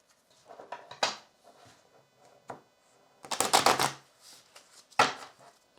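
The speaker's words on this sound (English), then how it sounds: "Let's give them a bit of a shuffle." Tarot cards being shuffled by hand in a close, quiet room, heard as several short crisp riffling bursts with pauses between them, the longest flurry in the middle.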